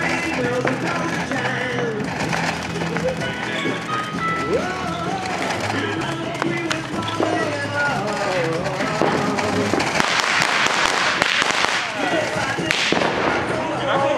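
Roman candle fireworks pop and crackle repeatedly amid loud music and scattered voices at a Fourth of July gathering, with a denser burst of bangs toward the end.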